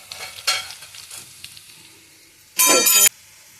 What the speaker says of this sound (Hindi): तो भुन गया है लहसुन और जीरा